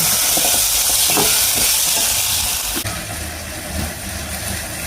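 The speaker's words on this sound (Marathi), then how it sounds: "आणि हे पण ह्या तेलासोबत सगळ्यासोबत त्यांनी खमंग असं परतून घ्यायचं" Sorghum flour is stir-roasted in oil in a pan, giving a steady loud sizzle with scraping stirring strokes throughout, without speech.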